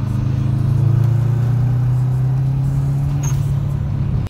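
Inside a 1992 Subaru Legacy SS on the move, a steady low engine drone and road hum fill the cabin, loud and constant.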